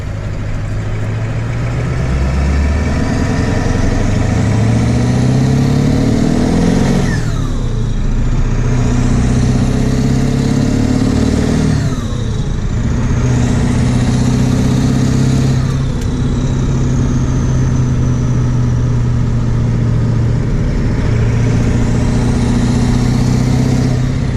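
A Ford Powerstroke 7.3 diesel truck with a custom tune drives along, its engine droning loud and close and rising and falling through several gear shifts with repeated revving surges, with no talking.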